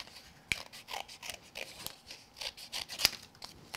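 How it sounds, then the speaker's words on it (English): Scissors trim excess card stock around a die-cut greeting card, giving a run of quick, crisp snips and crunches close to the microphone. One or two sharper clicks stand out, with no speech. "bring my scissors in, and I'm just going to trim away the extra card."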